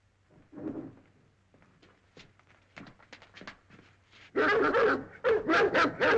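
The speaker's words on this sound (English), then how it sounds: "Even the dogs don't like him." A dog whimpers and yips softly at first, then breaks into a run of loud, close barks in quick succession near the end.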